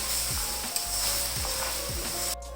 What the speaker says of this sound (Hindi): अच्छी तरह अब इसको भून लेना है।